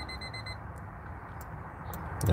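Electronic timer alarm beeping during a live market commentary session, a steady train of rapid high-pitched beeps in the first half second, then fading into room background with a few faint clicks.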